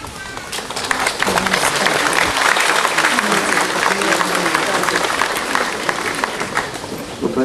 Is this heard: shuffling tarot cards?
no